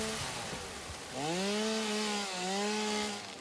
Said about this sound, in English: So I'll chop whatever trees I can on the way out